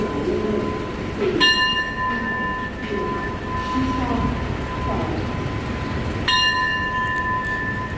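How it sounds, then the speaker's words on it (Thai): A train horn or signal at Lopburi station in Lopburi province, Thailand, sounds as the train is cleared to depart, two loud sustained tonal blasts over steady rail and station rumble. "สถานีนะครับก็ให้สัญญาณปล่อยขบวนรถ"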